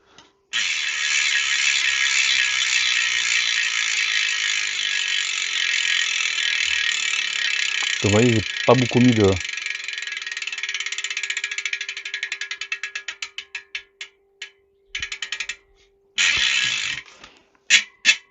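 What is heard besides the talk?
bicycle freewheel hub ratchet clicking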